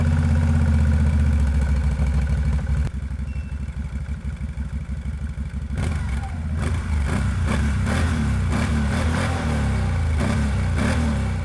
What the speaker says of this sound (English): At idle, the engine has this deep growl